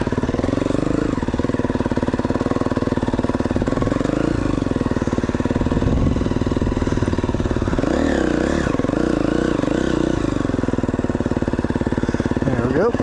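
An enduro motorcycle rides off a marked dirt trail into rough off-road terrain, its mid-pitched engine revving and clattering continuously up close, with throttle surges in the middle and a voice speaking briefly over it.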